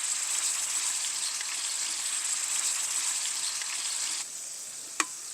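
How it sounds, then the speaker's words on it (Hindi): Beef mince keema frying in oil on a tawa, a close, even crackling sizzle that suddenly eases near the end, followed by a single sharp tap. "कीमा मीट में फ्राई हो रहा है"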